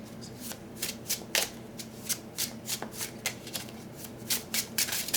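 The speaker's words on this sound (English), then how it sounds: "So I'm going to just do a quick shuffle here." Tarot cards being shuffled by hand, a close run of crisp riffling bursts and soft flicks in an irregular rhythm, with no talk over them.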